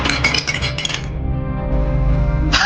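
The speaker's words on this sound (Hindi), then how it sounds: "किचन से कुछ बर्तनों की गिरने की आवाज आती है।" Metal kitchen utensils falling and clattering in an animated story, a close burst of clinks and bangs followed by a lingering ringing tone and a final sharp clink.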